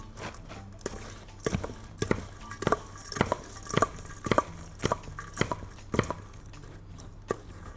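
Spoon or whisk working through a chocolate mixture for a chocolate tart, a steady run of about a dozen sharp scraping taps against the bowl at a regular rhythm, close and moderately loud.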